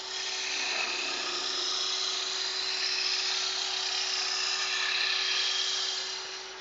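Skew chisel shaving wood on a lathe, a steady high hiss of the cut with a constant tonal whine from the spinning lathe, continuous and close for the whole stretch.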